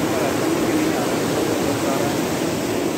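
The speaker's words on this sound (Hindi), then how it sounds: "और यहाँ से भी एक नहर बहते जा रहा है," Water flows steadily along a canal near a dam, a continuous broadband rushing wash heard close and even throughout.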